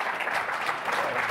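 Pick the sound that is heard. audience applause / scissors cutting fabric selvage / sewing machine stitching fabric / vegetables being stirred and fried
audience applause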